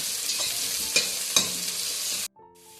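Mint leaves frying in hot oil for vegetable pulao, a steady close sizzle with a few sharp stirring clinks, cut off abruptly near the end.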